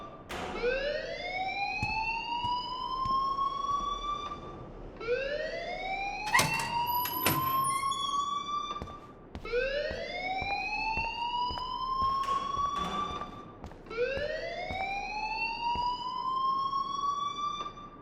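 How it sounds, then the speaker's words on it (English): Rising electronic alarm tones in the Life Is Strange video game, sweeping upward in repeated whoops of about four seconds each, steady and loud, with a few sharp clicks between cycles. "please turn off that alarm since that's your job"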